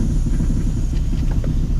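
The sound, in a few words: car exhaust rattling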